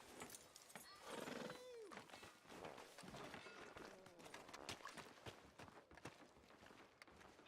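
A horse in Red Dead Redemption 2 whinnies loudly near the start, then hooves clip-clop along with other movement and bustle, with voices talking under the scene.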